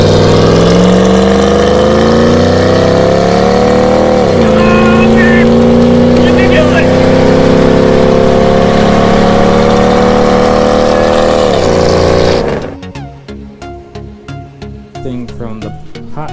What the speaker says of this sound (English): we're gonna race Betsy against Grandpa Truck in stock form